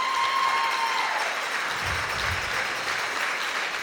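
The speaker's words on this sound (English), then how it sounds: "Can we give them a round of applause?" A school audience applauds three classroom volunteers at a teacher of the year event, a dense, steady round of clapping that fills the clip at an even, fairly loud level.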